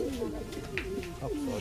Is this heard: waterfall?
no